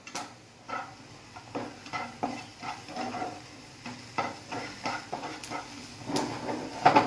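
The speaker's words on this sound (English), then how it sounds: "We'll saute this." Chopped onion and garlic sauté in butter, a soft steady sizzle under repeated scraping stirs of a utensil against the pan, close and moderately loud.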